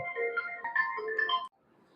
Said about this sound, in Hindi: फोन आ गया दोस्तों